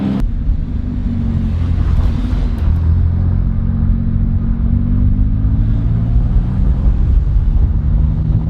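A vintage Porsche 911 with a swapped Subaru engine cruises on a coastal drive, its engine a steady loud low drone heard from inside, with road and wind noise and no talking.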